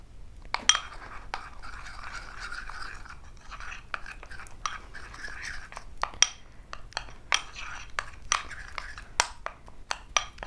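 A besan and turmeric face pack paste being stirred in a bowl, giving repeated clinks and scrapes of a spoon against the bowl, close and fairly quiet, with no talk over it.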